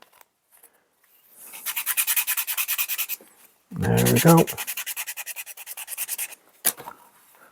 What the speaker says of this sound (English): give it a good sanding